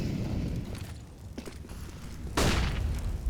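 A flashbang grenade bursts with a sharp, bright pop partway through an esports match of a tactical shooter, following muffled thumps and footsteps under a continuous game din.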